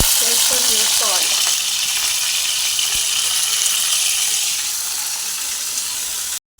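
Pieces of cut ridge gourd hit hot oil in a pan and sizzle loudly and continuously at close range, with a few clinks and stirring noises early on before the sizzle cuts off abruptly.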